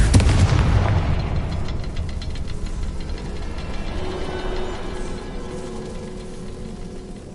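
The Confringo blasting spell from Hogwarts Legacy goes off as a loud, close explosive burst, then a rumbling, crackling tail slowly fades away.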